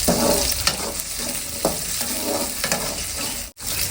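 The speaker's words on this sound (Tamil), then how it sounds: "சாம்பார் வெங்காயமும் பூண்டும் இந்த அளவுக்கு வதங்கினா போதும்" Shallots and garlic sautéing in hot oil for a Tamil sundakkai kuzhambu, a loud continuous sizzle close up with occasional stirring scrapes and a brief break near the end.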